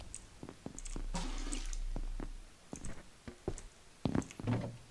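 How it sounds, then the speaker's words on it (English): Water pours and gurgles into a plastic bottle in the survival game Abiotic Factor, a sustained fill for about two seconds followed by scattered splashy drips and clinks. "So I can start collecting some water."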